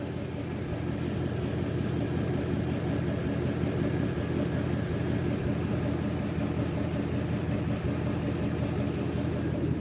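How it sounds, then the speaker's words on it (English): A Shelby GT350 V8 idles steadily with its exhaust valves closed, a constant low rumble with no ticking, close and continuous throughout with no talking. "No engine tick whatsoever."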